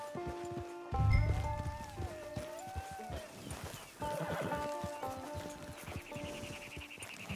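A horse in Red Dead Redemption 2 whinnies as it is brought to a hitching post at camp, with hooves clopping and shifting nearby, and quiet game ambience throughout.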